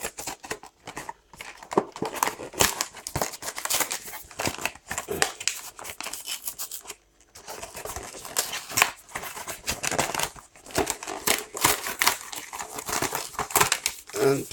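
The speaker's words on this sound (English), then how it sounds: "we'll just cut that off with our unboxing knife" Plastic earbud packaging for Skullcandy sport wireless earbuds being sliced and pried open with an unboxing knife, making close, busy crinkling, crackling and scraping with a brief pause partway through.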